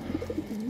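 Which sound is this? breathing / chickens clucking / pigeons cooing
pigeons cooing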